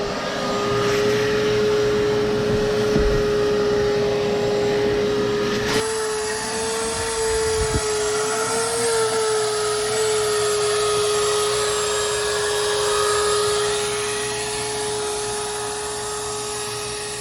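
Car vacuum cleaner running continuously while vacuuming a car, a steady high motor whine with a shift in pitch partway through and faint handling bumps, close and alone without speech.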